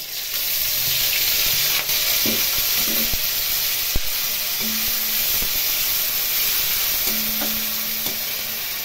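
Spice paste of poppy seed and white sesame hitting hot oil with fried nigella seeds and green chillies in a pan for Bengali pabda fish jhal, sizzling steadily with the scrape of stirring and a few sharp knocks.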